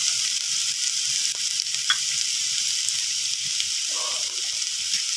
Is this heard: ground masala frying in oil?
yes